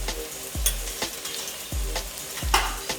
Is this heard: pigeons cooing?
no